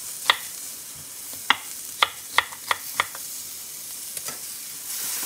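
Food sears in a pan on a stovetop with a steady, close sizzle, broken by a handful of sharp utensil clicks and taps against the pan.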